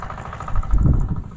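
A motor engine runs steadily up close, a low mid-pitched drone that swells briefly in the middle, heard on its own without talk.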